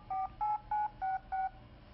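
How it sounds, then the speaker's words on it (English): An early-1990s Apple Newton PDA sounds out five evenly spaced touch-tone dialing beeps through its speaker, each short tone clear and distinct against a quiet background. "Hold the phone up to the speaker, and Newton would actually dial the phone."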